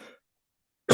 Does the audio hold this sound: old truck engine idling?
no